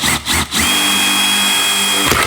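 A battery-powered drill spins a 1/4 inch bit at close range, loud and steady, with two short bursts of the motor revving, then a sustained whining run that cuts off near the end.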